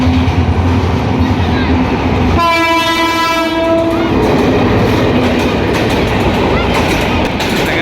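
A train rumbles through the Moghbazar–Malibagh railway level crossing in Dhaka, sounding a loud, sustained horn blast over a constant heavy rolling roar, with street noise and voices mixed in.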